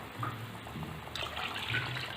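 Water pours into a pan of broken wheat and milk for fada lapsi, a soft, fairly quiet splashing stream that swells in the second half, heard alone.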